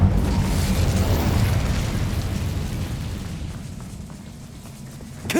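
The Incendio fire spell in Hogwarts Legacy erupts in a loud roaring blast that slowly fades into a rumbling burn, followed by a small sharp crack at the end.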